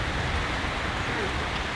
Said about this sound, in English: There's a bit of hail.